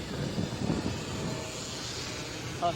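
An electric F5B model airplane passes overhead with a faint, steady whirring hum against open outdoor background noise, brief and fairly distant.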